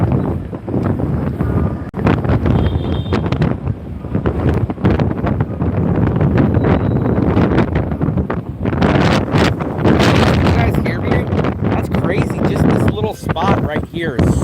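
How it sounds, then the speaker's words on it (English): Strong wind on a beach buffets the microphone, a loud continuous roaring rumble with gusts that swell and ease, while someone talks under it. "Spot right here is so windy."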